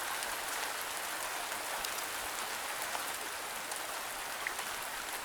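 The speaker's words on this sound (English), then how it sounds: "Rain is loud." Heavy rain in the video game VORON: Raven's Story, a dense, steady hiss of falling drops that stays loud and even throughout with no talking.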